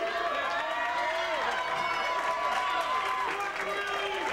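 A dance-competition crowd claps and cheers steadily and loudly for the couples on the floor, a dense continuous roar with music running underneath.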